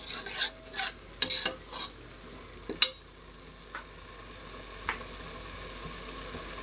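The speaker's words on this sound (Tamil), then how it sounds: "பார் மக்களே, நல்லா ஃப்ரை ஆகணும் மக்களே." Food with coriander leaves frying in a pan, with a few sharp clinks and scrapes of stirring early on, then a quiet, steady sizzle that fades into soft background hiss.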